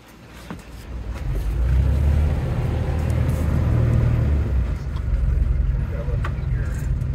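A 1982 Yorktown 41 center cockpit sailboat's engine is given throttle, its deep, close rumble rising and holding steady before easing slightly, while people talk nearby.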